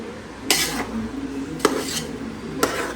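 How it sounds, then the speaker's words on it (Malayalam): A metal spoon knocks and scrapes against a pot as masala is mixed into beef mandi, giving three sharp clinks spaced about a second apart over a quiet kitchen background. "ഇനി ഇതെല്ലാം കൂടി ഒന്ന് മിക്സ് ചെയ്യണം. കുഴച്ചെടുക്കുവാണ് കേട്ടോ."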